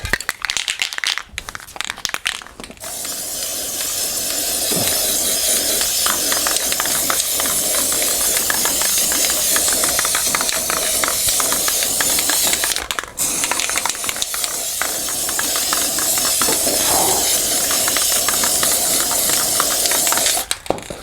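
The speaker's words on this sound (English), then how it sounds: "let me just go ahead and hit this with some spray paint" Aerosol spray paint hissing onto the grill of a 1986 Atari 720° arcade cabinet, a steady broadband spray lasting most of the passage, close and loud, with a few short breaks and faint clicks and rattles near the start.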